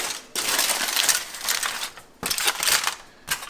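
Aluminium foil packet holding steak, potatoes and carrots cooked on a Big Green Egg being opened, loud close crinkling and crushing of foil in two bursts with brief pauses.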